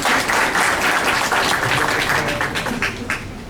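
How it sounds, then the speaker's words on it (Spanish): A crowd gives loud, steady applause for a guest speaker at a forensic sciences conference, dense clapping that holds for the full stretch and thins a little at the end. "le damos un fuerte aplauso para recibirlo"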